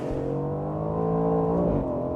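Aston Martin Vantage with turbocharged Mercedes-AMG power driven hard at night, engine note loud and close with rising harmonics as it pulls through a corner, steady and continuous without talk.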